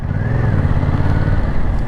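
A Yamaha Tracer 700 engine drones loudly and steadily while riding, with a low rumbling hum and rushing wind noise throughout and no voices.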